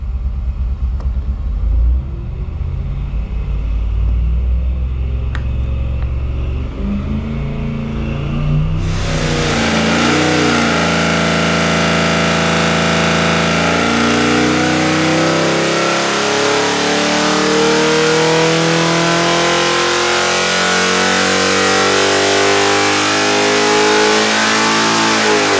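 A GM Holden 308 V8 on an engine dyno, first a lumpy close idle, then a sudden loud sustained full-throttle pull that climbs steadily in pitch and roars on for over fifteen seconds.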